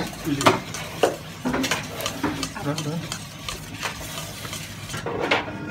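Salad being tossed with oil in a bowl, a steady scraping and stirring churn with repeated clinks of utensils against the bowl, sustained through the whole stretch.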